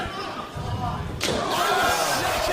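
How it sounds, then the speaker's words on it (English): A sharp, loud slap-like impact cuts through steady crowd noise and commentary, followed by continued arena roar. "That is the sound of a chop from Pelman."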